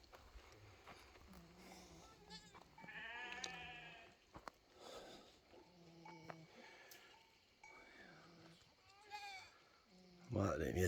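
Verata goats bleat out on a mountain pasture: several nearby and distant wavering cries overlap across the clip, with faint clinks of bells and quiet talk in the background.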